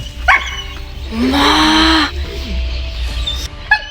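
Dog yelps and whines in a short burst, with a higher-pitched excited bark sequence in the middle, over a low rumbling background.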